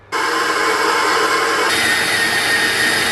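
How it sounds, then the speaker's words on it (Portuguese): Stand mixer whipping egg whites for a chiffon cake, starting abruptly into a loud, steady high whir with a slight shift in tone partway through, running alone. "Então aqui na batedeira eu vou colocar as nossas claras."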